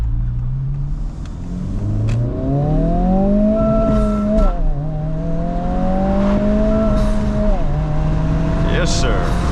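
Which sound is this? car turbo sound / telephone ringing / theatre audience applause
car turbo sound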